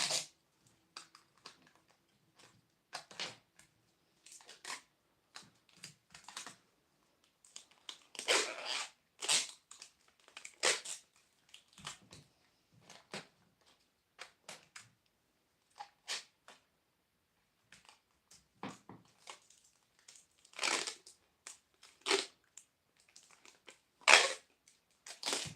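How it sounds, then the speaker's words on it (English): Packing tape is pulled and wrapped around a silicone casting mold in short, irregular rasping bursts. The bursts are fairly close and separated by quiet gaps. "we're just going to wrap the packing tape around like so"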